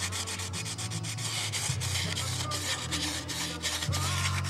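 Steady, continuous rubbing and scraping of sandpaper on wood by hand, close and fairly loud, with a low hum underneath and no talking.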